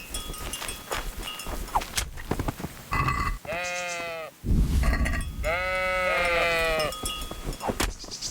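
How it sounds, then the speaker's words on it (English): Sheep in Kingdom Come: Deliverance bleat twice in loud, close, wavering cries, mixed with game sounds and scuffs. "What happens if I just stab a sheep?"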